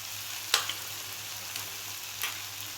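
Butter dropped into masala frying in oil for dhaba-style dal makhani, a faint steady sizzle with a couple of soft clinks from a spoon or pan.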